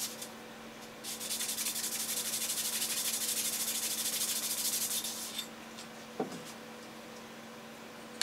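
A clarinet reed being sanded by hand gives a soft, steady scratchy rubbing for several seconds, close and fairly quiet, then stops, followed by a faint tap.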